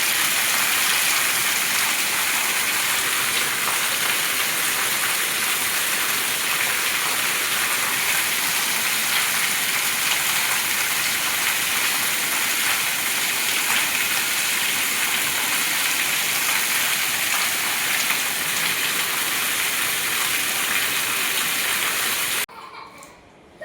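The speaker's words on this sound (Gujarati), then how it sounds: "ચાલો અમારા ગામમાં વરસાદ છે" Heavy rain pours steadily and loudly in a Gujarati village in the evening, a dense continuous hiss that stops abruptly near the end.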